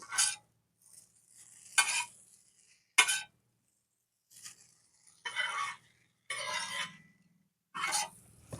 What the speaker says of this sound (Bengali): ম্যাগি মশলা এক প্যাকেট দিয়ে নাড়িয়ে নেব ভালো করে মিক্স করে নেব